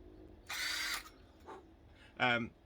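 A power tool whirs in a brief burst lasting about half a second, followed by a short quieter buzz; a voice speaks briefly near the end.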